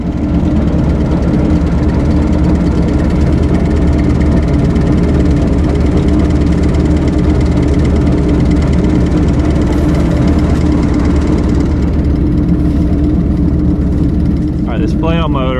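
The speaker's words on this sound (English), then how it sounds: "This flail mower just kind of turns this way and kind of lays the vines kind of right back on top" A tractor-driven flail mower cuts down sweet potato vines in a field, making a loud, continuous engine drone with a low rumble that holds steady throughout.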